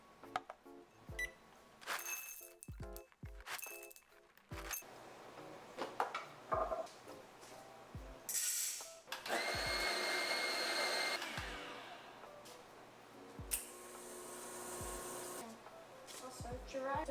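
Home coffee being made in a kitchen during a muffin-baking session: a loud, steady machine whir lasting several seconds, with clinks, taps and handling clatter before and after, under intermittent nearby talk.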